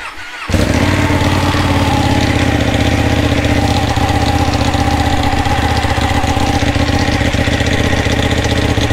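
A Ducati motorcycle engine fires up after a brief quiet moment and then runs steadily, loud and close, with a continuous rumbling drone that holds for the remaining eight seconds.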